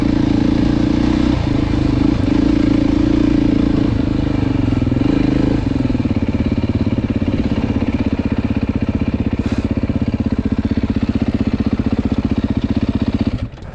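A Beta dirt bike engine runs loud and near throughout a ride, holding a steady throbbing drone with brief throttle shifts and clatter, then dropping away abruptly at the end.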